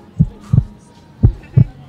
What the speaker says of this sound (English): Give me the heartbeat, fam.